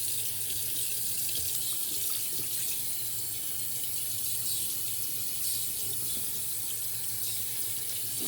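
Tap water running steadily into a sink while hands are rinsed, a constant close splashing hiss with slight variations and no voices.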